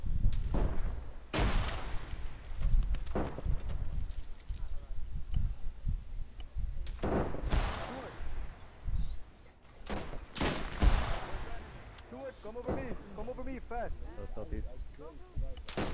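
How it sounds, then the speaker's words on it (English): Grenade explosions in an Arma 3 World War One battle, with repeated heavy booms and blasts at irregular intervals over a continuous rumble of combat. Voices can be heard toward the end. "They are throwing a lot of grenades."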